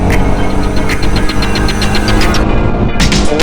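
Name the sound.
Jawa Bobber 42 motorcycle engine accelerating in 4th gear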